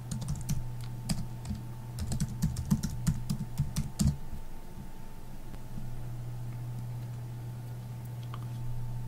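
Rapid bursts of computer keyboard typing as a password is entered during Linux LUKS disk encryption setup, close and fairly loud over a steady electrical hum, then the keys fall silent.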